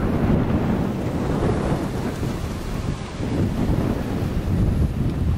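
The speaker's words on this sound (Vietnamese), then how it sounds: "Nói chuyện gió mà gió chắc khó nghe được lắm." Strong wind roars steadily and loudly against the microphone, a dense low rumble that never lets up.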